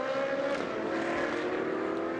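Race cars in the 2016 Trofeo Pirelli round at the Jerez de la Frontera circuit cross the timing line, a continuous loud engine roar with a shifting pitch and no talk over it.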